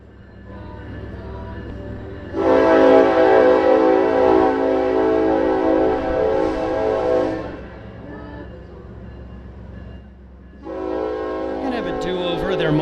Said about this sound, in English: I'm actually going to wait for the train to go.